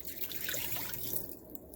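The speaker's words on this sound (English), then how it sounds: "You get your water, 1 cup of water, a little over." Water pours into a Ninja Foodi pressure cooker, a quiet continuous splashing trickle close by, faint and steady with no talking.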